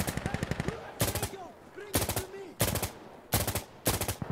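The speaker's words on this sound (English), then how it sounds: "we already know if it's done because that cling sound that M1 Garand make" M1 Garand rifle firing in the video game Insurgency Sandstorm, rapid bursts of loud close gunshots in repeated volleys, with tonal ringing pings between them.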